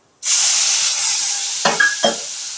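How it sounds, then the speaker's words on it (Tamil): Lemon juice mixed with rock salt hits a hot pan in a one-pot rice dish, bursting into a loud, close sizzling hiss that holds steady for over two seconds, with two brief scraping knocks near the end. "இந்த எலுமிச்சப்பழம் ஒரு பழம் புளிஞ்சி சாரும் அதில் கொஞ்சம் கல்லுப்பு போட்டும் கரைச்சி வச்சுருக்கிறேன். அது ஊற்றிக்கிறேன்"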